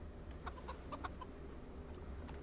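Chickens cluck in the medieval village of the video game Kingdom Come Deliverance, a quick run of short, soft clucks over a low, steady ambient background, fairly faint and without any talking.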